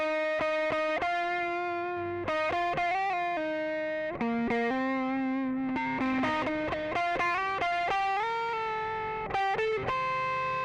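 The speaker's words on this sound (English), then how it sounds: "when I play just the single note distortion parts, it has a very clean sound" A distorted bass guitar through an Xotic bass distortion pedal plays a melodic line of single notes and short phrases, loud and continuous with no talking.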